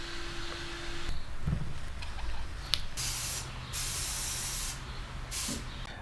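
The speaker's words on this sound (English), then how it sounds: "I sprayed our panel with spray paint over and over and over and over" Bursts of hissing aerosol spray paint from a can onto a panel, several long sprays with short gaps, close and fairly loud, plus a faint rattle.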